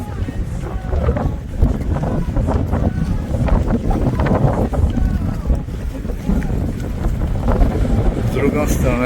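A boat ride on water in Cornwall, with gusting wind buffeting the microphone, a low churning rumble and splashing, and muffled voices mixed in.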